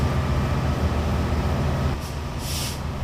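Class 67 diesel locomotive in Train Simulator 2014, running flat out at around its top speed: a steady, loud low engine drone and rolling rumble throughout, with a brief hiss of air near the end.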